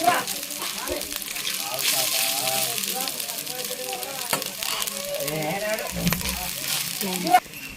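Cooked rice frying in a pan for pulihora gives a steady soft sizzle throughout, with occasional scraping stirs and a sharp clink near the end, while a voice talks over it.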